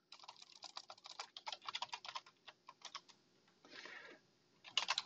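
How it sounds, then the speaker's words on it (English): Quick bursts of clicky keystrokes on a computer keyboard, close and fairly quiet, in uneven runs with short pauses and a brief soft rustle near the end. "I'll just type it out."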